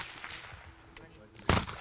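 Rifle shots at a youth shooting competition in Tatarstan with a target 100 metres away, faint background thumps followed by one loud, sharp crack near the end.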